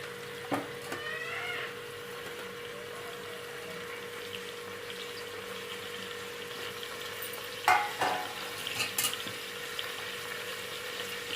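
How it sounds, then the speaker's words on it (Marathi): Pav bhaji vegetables sautéing in ghee in a pan, a soft, low, steady sizzle with a couple of brief spoon scrapes, close by and quiet, with no voices. "ह्या भाज्या परतून घ्यायच्या तुपामध्ये"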